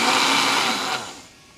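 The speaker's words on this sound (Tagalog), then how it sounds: "So nahihirapan yung blender natin paikutin." Kitchen blender labouring through chunks of jackfruit, a loud whirring motor hum that strains, then drops in pitch and trails off as it slows within about a second and a half.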